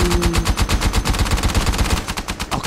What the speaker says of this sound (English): That means that we have 30 seconds of nothing but machine guns.